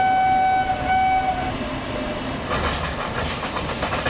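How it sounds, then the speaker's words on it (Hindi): A WAP-7 electric locomotive sounds its horn in Train Simulator, one steady tonal blast that then gives way to loud rolling rail noise and a broad rumble of the moving train. "बहुत ही प्यारा हॉर्न यहाँ पे वैप्सेवन अपना बजाते हुए"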